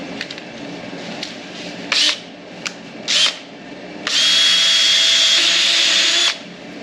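A drill bit bores a 7/16-inch hole in metal during a Dana 80 axle installation, with a couple of short whirring bursts, then one longer steady grind close by.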